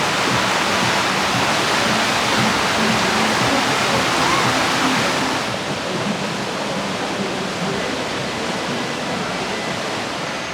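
Continuous rushing, churning water of the Rapids river ride at Walibi Holland, a loud broadband roar filling the whole clip, easing slightly in the second half, with no voices over it.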